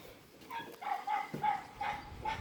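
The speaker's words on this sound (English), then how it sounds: "gonna let this little dog out and Snickers out." A small dog barks in a quick run of short, sharp yaps, moderately close and a bit faint, with no talking.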